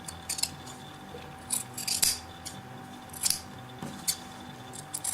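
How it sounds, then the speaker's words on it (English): Sharp scissors snip back the seam allowance of a piped coat collar, giving several quick, close, crisp cuts in an irregular rhythm against a quiet room. "Cut back your seam allowance"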